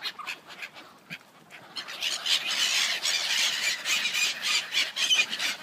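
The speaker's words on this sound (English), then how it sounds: "Whoa, they're noisy, aren't they?" Ducks at a pond squawking and quacking loudly while being fed bread, a dense, continuous chorus of shrill calls that builds and stays noisy throughout.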